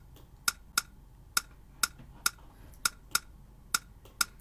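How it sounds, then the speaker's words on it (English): Drum sample programmed in FL Studio for an Afrobeat pattern, heard as sparse, sharp clicky hits spaced in a loose repeating rhythm, quiet and alone. "there's a drum sample here that sounds like this"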